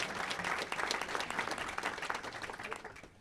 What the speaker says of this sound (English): applause for Sophie there